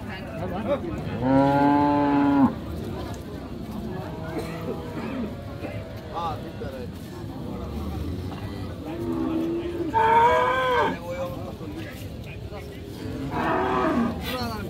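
A Friesian cow moos loudly nearby several times at a cattle market in Raniganj, Dinajpur, long low calls spaced apart, while people talk in the background.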